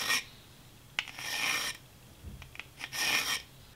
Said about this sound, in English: this file is used so we can grind this notch in right here